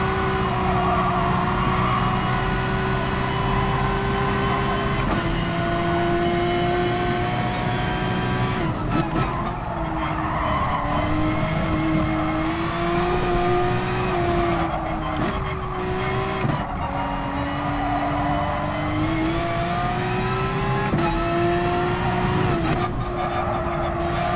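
A Porsche 911 RSR race car in the GT Sport racing game, its engine wailing loudly with rising and falling revs through gear changes, tires squealing in corners over a sustained high-pitched drone.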